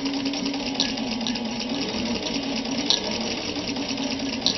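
A Singer 15-91 sewing machine stitches steadily at close range, its motor hum and needle action running continuously with faint periodic clicks and no talking.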